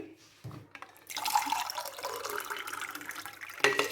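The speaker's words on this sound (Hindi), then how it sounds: "तो यहाँ पर मैं 3 कप पानी डालूंगी, ये बर्फ वाला।" Ice water pours into a saucepan while Kashmiri pink tea is being made, a close, steady splashing stream that starts after a short pause and runs on with a small clink near the end.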